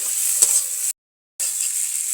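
Tilapia fish pieces seasoned with cumin powder sizzle loudly in hot oil as they are stirred in a frying pan, a bright steady hiss that breaks off for a moment and then resumes.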